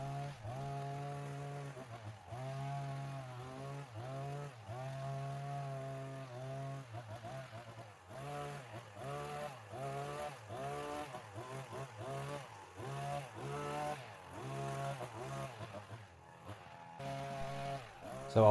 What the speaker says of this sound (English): I'm cutting a privet edge